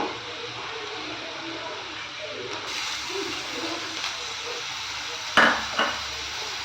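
Grated ginger being stirred into sautéed onions in a pan for tapioca pearl upma, with soft scraping and faint sizzling, then a couple of sharper clinks of the spoon against the pan near the end.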